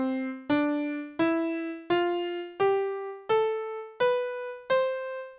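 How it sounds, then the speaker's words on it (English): A musical scale in one tuning system: eight bright, buzzy synthesized notes step steadily upward, each struck cleanly and decaying before the next, played alone and close. "it is a process to say if your scale should sound like this"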